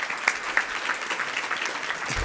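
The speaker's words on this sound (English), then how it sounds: "You all give him a round of applause." Audience applause for a county mayor at a climate resilience and complete streets panel, a steady patter of clapping from a moderate-sized crowd with a few sharper claps standing out, heard alone.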